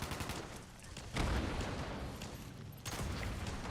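Gunfire at a creature in a wasteland-themed video game: dense bursts of shots crackling steadily, with a heavier burst swelling near the middle and another near the end, loud and continuous, with no speech.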